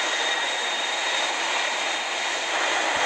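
Airplane engine in a mobile game, a steady, loud broadband roar that holds level and unbroken from start to finish with no voices over it.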